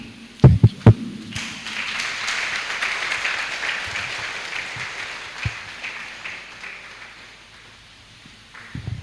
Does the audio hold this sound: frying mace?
no